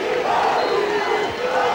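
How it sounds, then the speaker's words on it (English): Football supporters roaring and chanting in a stadium during a match, a dense sustained crowd noise with rising cries, heard from within the stands. "The fans certainly have plenty to cheer about."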